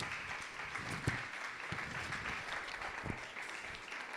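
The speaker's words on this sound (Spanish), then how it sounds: "Denle un aplauso al Señor." A church congregation applauds during a sermon, a steady low wash of clapping with a few louder bursts, fairly quiet and distant throughout.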